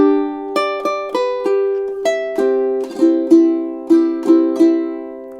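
A ukulele plays a short phrase from a theme, a steady run of clearly plucked notes at moderate tempo, close and alone with no voice.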